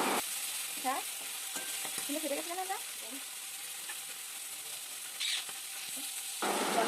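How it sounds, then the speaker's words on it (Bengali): Hilsa fish frying in a pan of oil, a steady close sizzle with occasional stirring scrapes running throughout, with faint voices underneath for a few seconds. "এই দেখো এদিকে ইলিশ মাছটা ভাজা হয়ে গেছে আমি এই যে মাছ লাভিয়ে নিচ্ছি"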